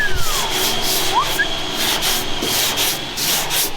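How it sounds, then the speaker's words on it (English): Masking tape is rubbed and peeled off a sanded car body panel, a continuous close scraping and rubbing with brief squeaky tears, loud and without talk. "peel your tape off"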